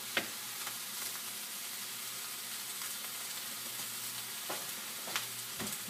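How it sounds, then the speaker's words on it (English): Greens wilt in a hot pan with a constant soft sizzle, broken by a few sharp clicks and scrapes of stirring. "Got them greens wilting down in the pan, y'all"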